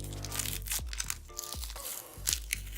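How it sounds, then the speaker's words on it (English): Crinkly tearing and crunching of a soap sample's plastic wrapper being ripped open by hand, several close, sharp rips and rustles with short pauses between them, no talking. "I doubt I'll be able to open this one without tearing."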